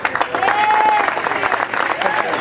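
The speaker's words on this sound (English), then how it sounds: "Another warm round of applause." Crowd applause at an outdoor family-day community event at a Home Depot store in Fontana, a warm round of clapping with cheering and voices mixed in.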